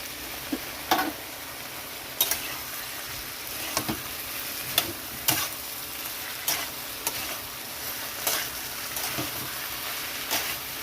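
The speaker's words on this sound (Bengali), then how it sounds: "তো এখানে সর্ষে বাটাটা দিয়ে দিচ্ছি।" Mustard paste hits a hot frying pan for a shrimp and ash gourd dish, producing a steady low sizzle broken by regular sharp clicks of a spatula against the pan, close and moderately loud without speech.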